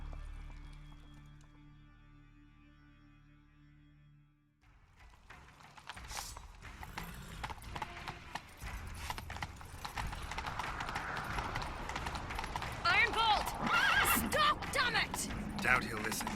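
Horses galloping in The Witcher 3 video game, hoofbeats clattering in a quick rhythm after a quiet start, growing louder with creaking tack and game sounds, under occasional character dialogue.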